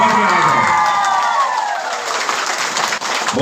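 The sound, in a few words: audience applause welcoming workshop members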